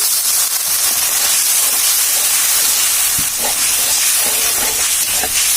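Salt, ginger-garlic paste, turmeric and a splash of water hit a hot pan for a Bengali dish, giving a steady, loud steaming hiss and sizzle throughout with a few faint clinks.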